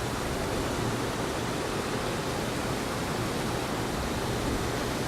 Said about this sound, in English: on this side we have much bigger sluice gates and much more water rushing through all the